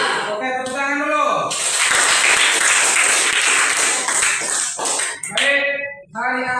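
A classroom audience breaks into a burst of clapping of several seconds during a teacher's lesson, framed by the teacher talking before and after.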